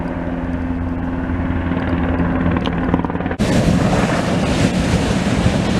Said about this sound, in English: Here comes the chopper back to get some more water.